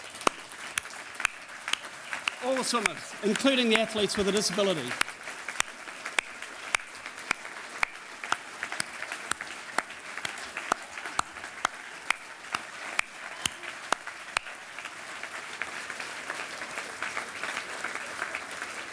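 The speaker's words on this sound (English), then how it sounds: "for everybody to give them a round of applause" Audience applause for swimmers standing at the Swimming New Zealand Awards 2013 night, a dense burst of clapping rising for a couple of seconds then fading, with a presenter speaking before it begins.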